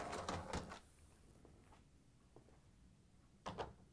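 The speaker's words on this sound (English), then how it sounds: "Next, we need to pull out the lower dish rack." The lower dish rack of a Whirlpool, KitchenAid or Maytag dishwasher is pulled out and pushed, giving short rattling slides and clatters at the start and end with faint scrapes between, close and fairly quiet.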